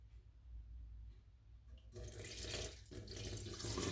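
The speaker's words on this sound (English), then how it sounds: "So now we're going to pour the float into the sieve." Paraffin oil float carrying organic debris is poured into a sieve: quiet at first, then a sudden steady rush of liquid splashing close by that grows louder toward the end.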